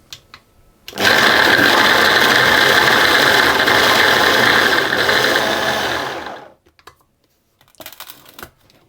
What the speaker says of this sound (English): blitz it or pulse it until the pecans are nicely ground down.